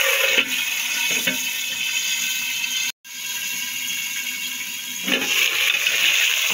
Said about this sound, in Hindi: अब इसमें थोड़ा सा हम पानी डालते हैं